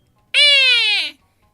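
A person imitating a bird call, a single loud drawn-out hooting cry of about a second that slides slightly downward, alone in an otherwise quiet moment.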